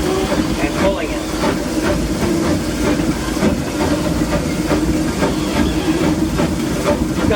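Disneyland Railroad steam locomotive No. 1, the C.K. Holliday, runs with a slight timing issue, giving a steady rhythmic chuff and hiss with rail clatter, heard loud and close from the cab.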